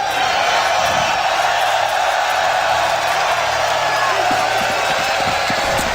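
A large arena crowd roars and cheers at the MLG Columbus 2016 CS:GO major semifinal, Team Liquid versus Luminosity Gaming, a dense, loud and continuous wall of noise with scattered whoops and an announcer's voice over it.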